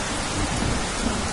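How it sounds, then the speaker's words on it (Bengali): Heavy rain pours down outside in a dense, steady hiss with a low thundery rumble beneath, loud and unbroken throughout. "এমন সময় বাইরে আবার ঝমঝম করে বৃষ্টি নামল।"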